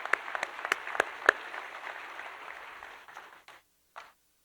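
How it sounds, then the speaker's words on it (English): Applause at a PSD 2025 celebration event. A few loud, distinct claps come near the front, then a thinner patter of clapping fades out, with one last stray clap. "so let's applaud for all of us"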